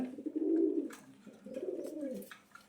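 A pigeon coos in two long, soft rolling phrases, close by and on its own with no talk.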